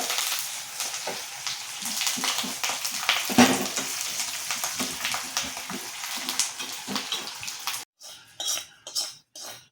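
Mustard seeds and curry leaves temper in hot oil in a kadai, a steady crackling sizzle with clinks of a utensil against the pan, louder popping bursts midway, then brief separated scrapes and clatters near the end.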